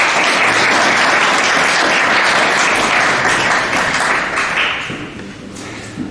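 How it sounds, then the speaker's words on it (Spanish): An audience at an ethnobotany lecture on natural heritage interpretation breaks into loud, dense applause that holds steady, then thins and fades away over the last seconds. "Vamos a brindarle un fuerte aplauso."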